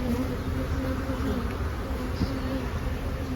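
Honeybees drone on an opened brood frame in a nuc, a close, continuous buzzing hum with a steady tone, briefly joined by a faint voice.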